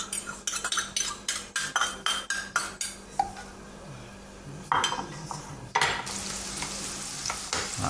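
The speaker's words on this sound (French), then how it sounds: "on nettoie notre poêle et on met un peu de beurre. On va faire suer un peu d'échalote." Shallots sweat in butter in a frying pan, with a soft sizzle under repeated sharp scraping and clinking of a utensil stirring against the pan, then louder handling bursts near the end.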